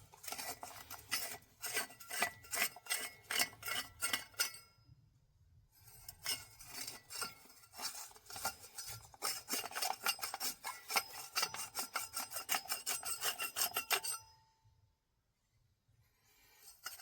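A brush scrubs rapidly back and forth inside a 2-inch metal diesel heater pipe, giving a dense rasping scrape in two long bursts separated by a short pause, close up with no speech.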